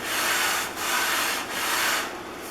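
Stanley No. 33 jointing plane pushed in three long, even strokes along a wooden board, a steady broadband rasping hiss with brief gaps between passes, close and fairly loud.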